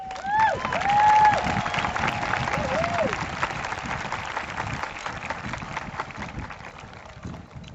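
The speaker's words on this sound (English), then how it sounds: "Let's give a big round of applause to our Santa Fe High School band, choir, and NJROTC" A high school graduation crowd claps for the school band, choir and NJROTC, a broad wash of applause with a few cheers early that slowly tapers, heard from within the audience.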